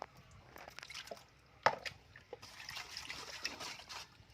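Salt water trickles and dribbles in a quiet stream with small drips and splashes while dried fish soaks, close up with one sharper knock, and nobody talks.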